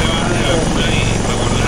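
A helicopter's rotor chops steadily and close in the video game Arma 3, a continuous thudding whir with a rhythmic beat throughout.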